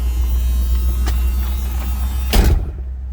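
A 1978 Cadillac Eldorado Biarritz engine idling, a steady low hum with a brief thump near the end before it settles quieter.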